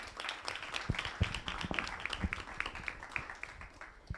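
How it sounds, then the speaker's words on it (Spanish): A room of people at a political science orientation fair applauds, with distinct, sparse individual claps popping out from a moderate crowd, irregular and fairly close, steady for about four seconds. "así que un aplauso para ella"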